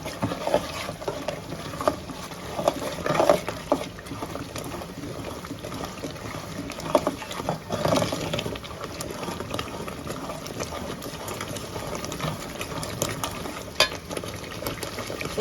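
Homemade spice masala for a fish curry is mixed and fried in a pan. Soft, low bubbling sizzle continues under intermittent stirring scrapes, fairly quiet and close.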